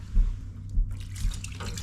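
Soft trickling water with a few irregular drips from a leak near a boiler, close by and quiet, over a low steady hum.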